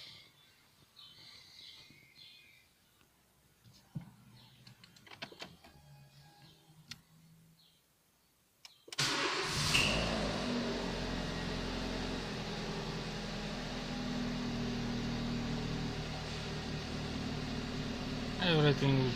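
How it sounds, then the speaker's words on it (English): After a quiet stretch of faint ticks and clicks, a Renault Laguna 1.6 16V engine with a freshly replaced timing belt and coolant pump starts abruptly, then settles into a loud, steady idle. "now we can start the engine."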